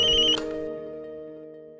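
A phone rings with a bright electronic ringtone for about a third of a second, then cuts off, leaving a steady low hum that slowly fades.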